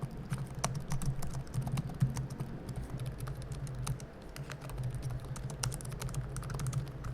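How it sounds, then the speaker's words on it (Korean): Rapid, light clicking of someone typing on a Samsung Galaxy Book Pro laptop's short-stroke keyboard, an even run of close, crisp keystrokes with a faint low hum underneath and no speech. "실제로 쳐보니까 이온과 비교했을 때 확실히 북 프로가 키를 눌렀을 때 스트로크는 짧지만"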